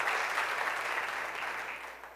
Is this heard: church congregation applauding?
yes